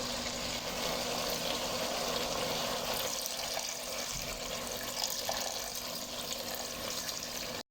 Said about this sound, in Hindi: अब हम इसके अंदर 1 गिलास पानी ऐड करेंगे।